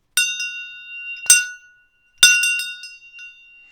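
Three bright metallic strikes of a shang, a traditional Tibetan ritual bell used in Chod practice, each ringing out with a clear shimmering tone that decays, the last followed by a few quicker clinks.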